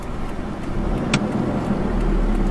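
A car pulls away uphill on a mountain road to Doi Kat Phi in Chiang Rai after the handbrake is released, its engine droning steadily and swelling slightly, heard from inside with a brief click partway through.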